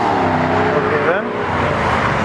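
An old Alfa Romeo car drives past loudly and close, its engine note rising and shifting through about two seconds, with people talking over it.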